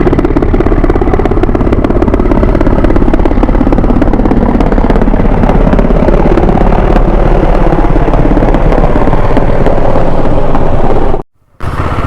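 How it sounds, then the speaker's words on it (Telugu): Several helicopters fly overhead near Mana village by Badrinath in Uttarakhand, a loud, continuous rotor-and-engine roar that stays steady for the full length before cutting out briefly near the end. "చాలా హెలికాప్టర్లు ఎగురుతున్నాయి, అసలు ఎటు పోతున్నాయో అర్థం కావట్లేదు."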